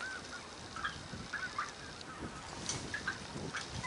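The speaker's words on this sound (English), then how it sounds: "Look, here's some geese right here." Geese honk in a Louisiana field during a duck and goose hunt: several faint, scattered calls carry from a distance over quiet outdoor background noise.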